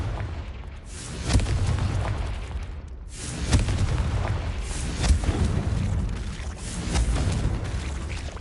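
Confringo spell blasts in the video game Hogwarts Legacy, several deep booming explosions at irregular intervals over a rumbling low background, loud and without speech.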